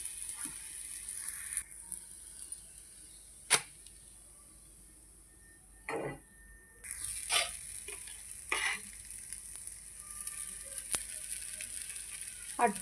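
A wheat flour and jaggery dosa roasts on a hot pan with a faint, steady hiss. Occasional sharp scraping clicks break through the hiss.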